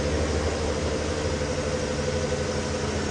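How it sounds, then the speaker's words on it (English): A car engine rumbles steadily behind a vehicle on an early-morning safari drive near elephants, a continuous low drone holding at an even level throughout with no voices. "I keep hearing a car coming up behind me"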